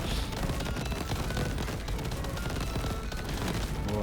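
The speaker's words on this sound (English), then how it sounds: "My fireworks are blinding." Dense, continuous barrage of explosive bursts and crackling blasts from fireworks going off in the video game Crab Champions, loud and chaotic throughout with no pause.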